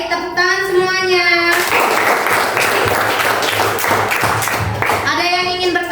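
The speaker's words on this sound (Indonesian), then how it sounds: "Baik, tepuk tangan semuanya." A classroom of children bursts into loud, dense clapping for several seconds, with a voice speaking just before and after it.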